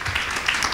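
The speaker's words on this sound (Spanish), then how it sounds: "Un aplauso fuerte" A church congregation applauds loudly in a brief, dense burst of clapping that fills the space, close and steady without a break.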